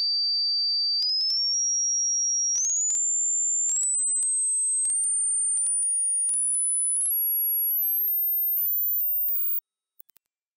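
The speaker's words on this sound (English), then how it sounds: "Here we can see and hear a waveform starting at a low frequency and getting increasingly higher." Pure sine tone stepping upward in pitch from low to very high in a series of rising sweeps, steady and loud throughout, then cutting off abruptly near the end, with no voices.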